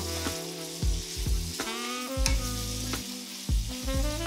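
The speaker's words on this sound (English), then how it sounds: "I'm gonna give this a nice little mix around." A pot of vegan chicken and sausage jambalaya is stirred over steady sizzling and frying, with repeated scraping strokes of a spoon against the pot, close and clear, no voices.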